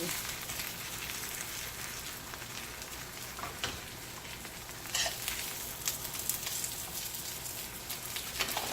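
Thin tilapia fillets frying in a pan give a constant, fairly loud sizzle with a few brief crackles and utensil touches, and no voices.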